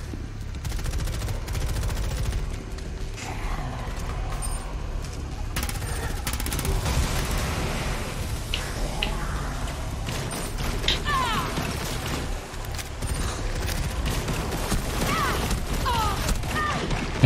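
Rapid gunfire from the Rainbow Six Extraction video game on Xbox One X, with bursts of automatic shots and single cracks that carry on throughout. Players talk over the shooting.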